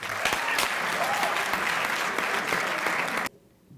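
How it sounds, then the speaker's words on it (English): Loud, dense applause from a university debate audience at UKZN Westville in 2016 fills the room steadily, then cuts off abruptly near the end, leaving quiet. "Can we give him a round of applause, guys?"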